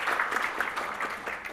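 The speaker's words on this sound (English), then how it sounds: "Why don't you give them another round of applause?" A conference audience applauds, a dense steady wash of clapping from many hands, moderately loud and sustained for the whole stretch.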